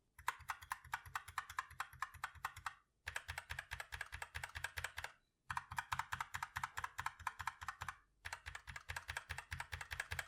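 Rapid, steady typing on a SteelSeries Apex 7 TKL mechanical keyboard with O-ring dampened keys, bursts of clicky keystrokes separated by brief pauses, close and alone.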